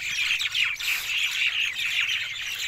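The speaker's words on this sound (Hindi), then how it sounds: "परिंदों की भी आवाज़ काफ़ी आ रही है" Many birds chirp and tweet together in a dense, continuous chorus at dusk near the India-Pakistan border, fairly close and unbroken by talk.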